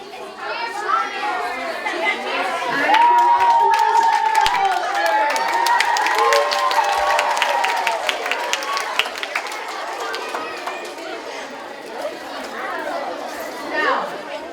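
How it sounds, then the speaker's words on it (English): A crowd of children at a DARE graduation shouting and cheering excitedly, a loud busy mass of high voices and claps that swells in the middle and eases off toward the end. "I'm hearing some excitement in the crowd here."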